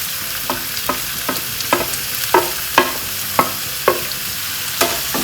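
Two large grated onions sauté in a pan for a cabbage masala. A close, steady sizzle runs underneath, broken by about a dozen sharp scraping stirs that come roughly every half second, with no talking.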